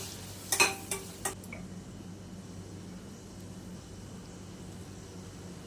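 Chopped tomato sautés in a pan for prawn semiya, a low steady sizzle with a few quick spoon scrapes and clinks near the start, then a quiet continuous frying hiss, no voices.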